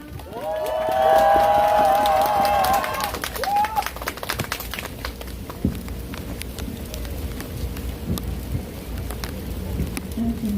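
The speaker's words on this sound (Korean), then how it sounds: "박수 부탁드립니다" An outdoor rally crowd in heavy rain in front of the Ministry of Education breaks into sustained applause, a dense wash of clapping that swells early and then settles into a steady patter, with a voice briefly heard near the start.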